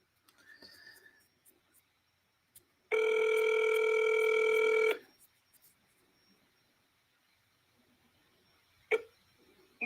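A phone call ringing before going to voicemail: one clear electronic ring lasting about two seconds, with faint quiet sounds before and after it.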